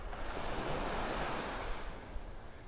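Small ocean waves wash steadily onto Vanderbilt Beach in North Naples, Florida, a continuous close surf roar with a little wind noise over the microphone and no voices.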